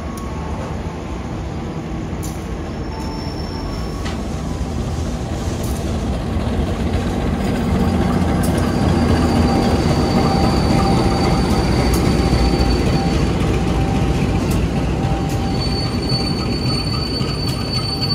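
An Ijen Ekspres economy-class passenger train runs at night, its wheels and cars rumbling steadily on the rails with a thin metallic squeal above the roar, building slightly louder after the first few seconds and holding close and continuous.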